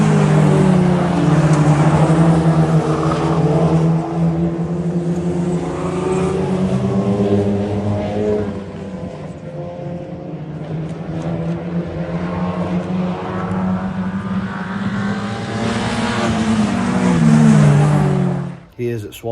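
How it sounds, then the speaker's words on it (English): A race car under test at the Swaffham track, its engine droning and revving with shifting pitch as it runs through gears, loud and sustained, ending with an abrupt cut. "He is at Swaffham, as you can see, testing the car."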